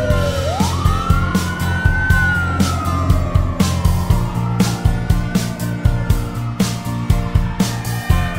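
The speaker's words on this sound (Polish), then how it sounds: "Kierowca uruchomił koguty oraz syreny." A loud wailing siren sweeps up and down over engine rumble and rhythmic clattering, like a fire truck pulling away with sirens blaring.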